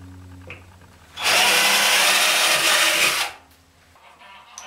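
A power drill tapping holes in metal end caps whirs loudly for about two seconds in one steady burst, with quiet background before and after.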